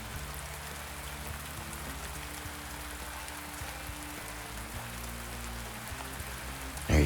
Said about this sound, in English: There you can see we're getting rained on a little bit again.